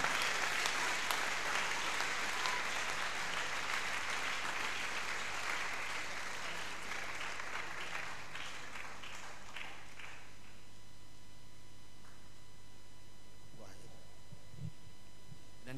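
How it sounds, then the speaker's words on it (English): Church revival tent meeting audience applauding: dense, sustained clapping for about ten seconds that then thins into a few scattered claps near the end. "can't you clap for Jesus at all?"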